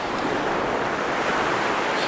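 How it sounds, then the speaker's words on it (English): Ocean surf rolls onto a shoreline and draws back in a continuous loud wash of churning water, heard up close with steady wind noise and no voices. "I'm gonna wait for the perfect time as these waves come in and just start to drag back into the ocean"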